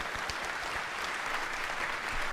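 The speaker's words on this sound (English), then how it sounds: "And applause." Audience applause at a Star Citizen game presentation, a continuous, even roar of many hands clapping, heard alone without speech.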